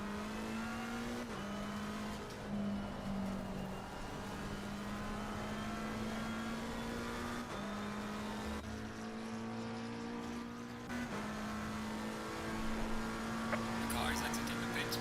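Race car engines in a racing video game hold a steady high drone with occasional shifts in pitch, continuous and fairly close, while a person talks over them.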